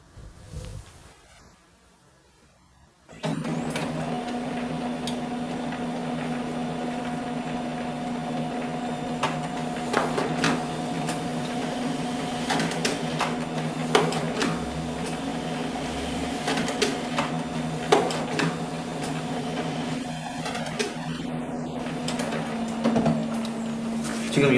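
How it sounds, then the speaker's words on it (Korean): A printer running a job in a quiet room gives a steady mechanical whir with tonal hum and a scatter of clicks and rattles as pages feed through, starting suddenly after a brief near-silence, with no voices. "자, 그러면 실제로 프린터 출력을 해보겠습니다."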